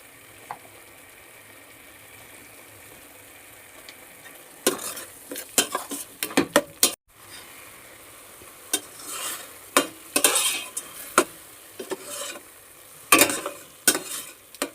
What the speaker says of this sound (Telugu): మధ్య మధ్యలో ఇలా కలుపుకుంటూ పైకి వచ్చే వరకు వేయించుకోవాలండి